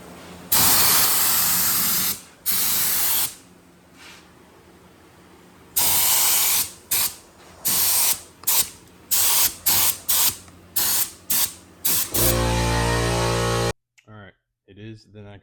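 Spray gun laying epoxy primer onto a Datsun 280ZX body: loud hissing bursts in a stop-start rhythm, some long and several short quick pulses, close up, ending with a few soft clicks.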